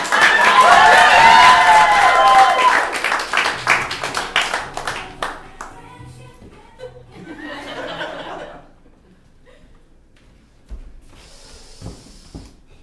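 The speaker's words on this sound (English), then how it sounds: "Yeah, feel free to applaud. You can applaud." Loud audience applause with cheering and laughter fills the room, then fades into scattered claps, chuckles and a few brief noises.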